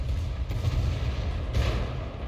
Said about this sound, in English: Here comes the torpedoes.